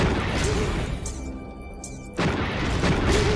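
Rocket explosions in the shooter Blade of Agony: loud booming blasts at the start and again after a short lull around the middle, with dense crashing noise filling most of the stretch.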